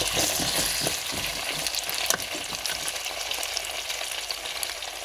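Seasoned homegrown potatoes frying in a pan, a loud continuous sizzle with stirring scrapes and crackles near the start, close and without talk.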